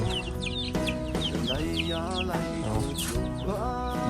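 Chickens at a small family coop, kept for breeding, cluck and chirp continuously at close range, with several birds calling over one another in a busy, steady chorus and no talking.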